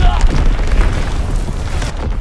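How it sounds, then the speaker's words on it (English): A bomb explodes in a multiplayer war video game with a deep, sustained rumbling boom that fills the whole stretch, over a steady low roar of battle noise. "Enemy bomb incoming."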